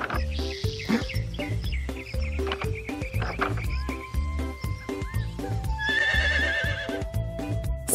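A video game horse neighs and whinnies over a busy, rhythmic musical backdrop in a kids' farm game, with clip-clop-like beats and bright synthetic tones throughout.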